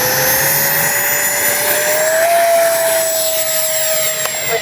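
An E-flite 80mm Habu XS RC jet flies overhead with its ducted fan giving a steady, loud whine that rises slightly in pitch midway and holds for several seconds without pause.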